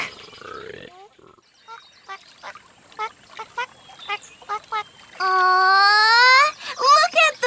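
A series of short calls is followed by loud, drawn-out nasal quacks at close range, repeating in a run with brief gaps between them.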